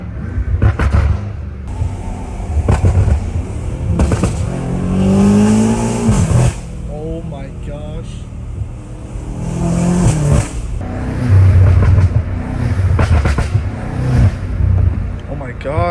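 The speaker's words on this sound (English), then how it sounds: "Gosh, the turbos sound amazing right now." A turbocharged BMW M5 Competition revs and accelerates hard in repeated loud bursts with rising engine notes and gear changes, heard from close up in or near the car, with people talking between pulls.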